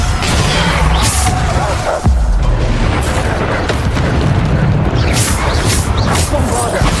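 Repeated Bombarda explosion spell blasts in Hogwarts Legacy, loud booming bursts with crashing debris over dense game sound and a voice shouting spell names throughout.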